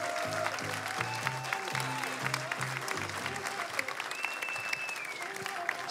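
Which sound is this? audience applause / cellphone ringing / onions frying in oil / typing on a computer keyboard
audience applause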